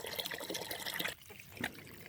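Water from a garden hose pours and splashes into a container for farm animals at night, a faint, steady trickling rush with a slight change in tone partway through.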